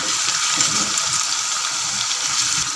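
Chicken liver that has cooked with garlic and cumin fries steadily in a pan as onion paste is added, giving a loud, continuous close sizzle with no talking.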